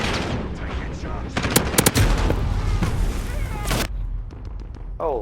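Gunfire in the video game Call of Duty Modern Warfare, during a 6v6 headquarters match at a tank factory: bursts of rapid automatic fire and sharp single shots over dense game noise, with voices talking in between.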